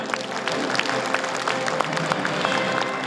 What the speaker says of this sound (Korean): 한 분 한 분 인사드릴 때 큰 박수로 환영 부탁드리겠습니다